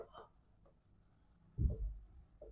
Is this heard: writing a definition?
yes